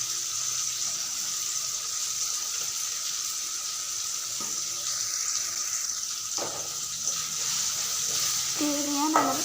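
Water poured into a pan of Tamil-style egg curry, a steady broad sizzle and pouring hiss lasting throughout, with a few clinks near the end and no talk.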